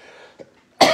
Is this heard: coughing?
yes